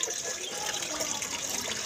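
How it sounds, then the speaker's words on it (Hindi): Rice is washed by hand in water, with close, steady sloshing and splashing throughout. "मैं चावल धो रही"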